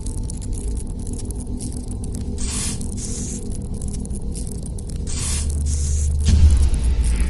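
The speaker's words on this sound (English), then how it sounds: "Oh no, it looks like Chica needs another dose of the chemi spray." A chemi spray canister in FNAF VR Help Wanted hisses in two short bursts over a low, steady hum, with a louder rumbling thud near the end.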